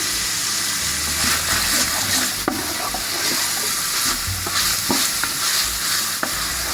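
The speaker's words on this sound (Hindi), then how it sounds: "थोड़ा सा इसको भूनेंगे।" Carrots and green onions frying in a pan for chicken macaroni, a steady close sizzle with occasional stirring scrapes and clinks throughout.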